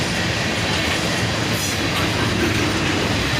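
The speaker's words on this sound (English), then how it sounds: "this Norfolk Southern train was heading the opposite direction from the one I was waiting on" A Norfolk Southern freight train led by an SD70ACe locomotive, followed by an ES44DC and a Dash 9, rumbles past on a bridge as a loud, continuous roar of wheels and cars.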